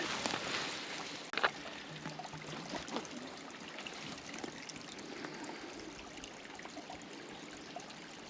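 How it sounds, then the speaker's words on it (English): Water trickles under boggy, peaty ground in the remote Debatable Lands near Kershopehead Bothy, a soft, continuous gurgle heard close by, with a sharp knock near the start. "there's a bit of water I can hear under here"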